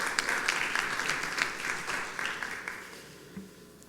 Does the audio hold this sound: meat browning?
no